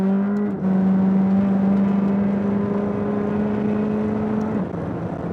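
A 2021 McLaren 620R at speed on the COTA straight, a loud steady engine drone heard from inside the cockpit with a brief dip and shift in pitch near the start.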